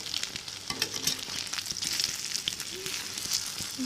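Slices of bread frying in a hot pan for toast give a continuous close sizzle, with scattered crackles and light scraping clicks as they are turned, no voices.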